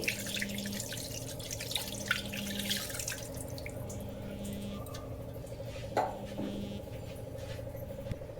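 Water from a glass trickles and drips into a cooking vessel with small splashes and a faint clink, quiet and close, no voices, while making Nellore fish curry.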